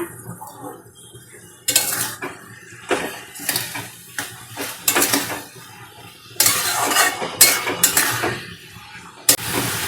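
Metal lid lifted off a cooking pot of simmering radish greens, with a run of clanks and clinks of metal cookware and utensils, loud bursts spread across the stretch with quieter gaps between.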